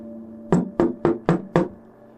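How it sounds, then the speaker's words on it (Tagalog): Five firm knocks on a door land in a steady, even rhythm, close and loud with a hollow wooden thud, then silence. "Biglang may kumatok sa pinto."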